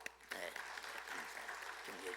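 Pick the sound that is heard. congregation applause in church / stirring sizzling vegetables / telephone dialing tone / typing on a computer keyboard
congregation applause in church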